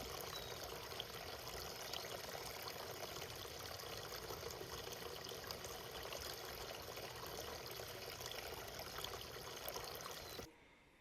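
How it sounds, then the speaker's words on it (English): A small, newly set-up backyard waterfall by a bird feeder gives a continuous fine trickle and splash of running water, soft and steady throughout before cutting off abruptly near the end. "We just set up a little waterfall"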